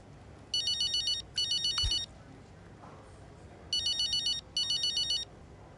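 Telephone ringtone from a racing video game, two pairs of bursts of rapid electronic trilling ringing, loud and close, separated by a quiet gap with a brief click between.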